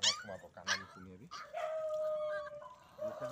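A dog's yipping barks and whimpers, most likely from a stray puppy rescued from the roadside, come in a quick burst of short sharp calls and then a longer whine, close and fairly loud, with a voice speaking over part of it.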